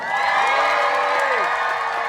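At an Independence Day of Ukraine demonstration in Leipzig, a crowd cheers and whoops, with raised voices blending into a brief, loud burst of celebration.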